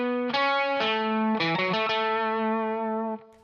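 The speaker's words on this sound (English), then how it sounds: "Then we're gonna go up to this lead lick that sounds like this." An electric guitar plays a lead lick from a song, with a string bend on the second string, ringing notes with light distortion, close and loud with no talking.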